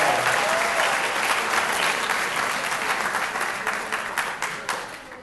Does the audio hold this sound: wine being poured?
no